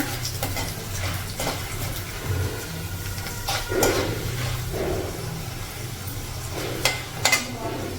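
Chana dal, urad dal and cumin frying in hot oil for semya pulihora, a soft continuous sizzle close by with occasional stirring scrapes and light pan knocks.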